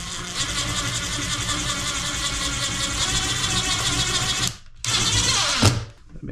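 A power drill drives a T25 screw into an electrical box, a steady buzzing whir that stops abruptly, briefly resumes, then winds down close up.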